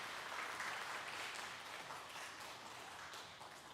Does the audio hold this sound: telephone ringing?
no